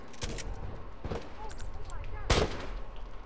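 9mm gunfire in The Last of Us, a few sharp close shots spaced apart amid game combat noise, with voices talking over them.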